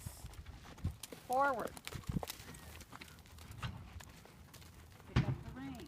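A horse's hooves stepping over while working at a gate during riding instruction, several dull clip-clop footfalls spread through the clip, close by, under a rider's spoken commands and other voices.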